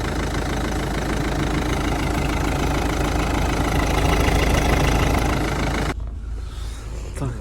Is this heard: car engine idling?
yes